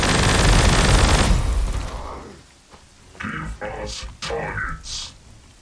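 Broadside weapons fire in the Warhammer 40k Gladius strategy game, Necron faction: a loud, dense burst of rumbling fusillade that fades out, then several sharper bursts of zapping weapon fire follow.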